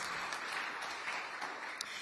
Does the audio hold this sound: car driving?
no